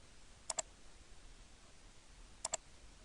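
A computer mouse clicks twice in a quiet room, each a crisp double click, one early and one about two seconds later, close and clear against faint background hiss.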